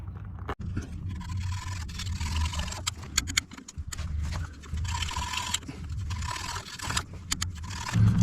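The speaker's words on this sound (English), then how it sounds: "Let me just take a points file to it and see if that clears it up at all." A points file scrapes back and forth across the ignition points of a Farmall tractor, a steady rasping metal-on-metal scratch with brief pauses, close up and fairly loud.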